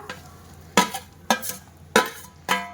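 Guar beans are stirred into a pan of roasted spices, sizzling steadily under four sharp, evenly spaced scrapes of a spoon against the pan.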